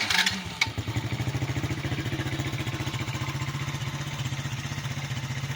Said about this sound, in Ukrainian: Квадрик протестований, кажу, давайте ще раз його запустимо